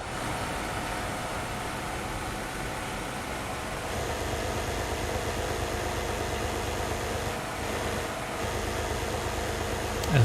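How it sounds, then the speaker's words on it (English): Car engine heard muffled from inside a closed cabin with the windows shut: a steady, subdued drone under road and wind hiss, swelling slightly partway through as the car accelerates. "Let me open it a little so we can hear more of the engine."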